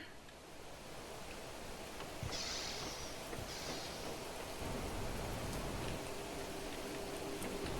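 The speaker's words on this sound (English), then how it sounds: "Sounds like it's raining." Steady rain pattering in the video game Planet Crafter, a dense continuous wash with occasional louder drops, moderately close and even in level.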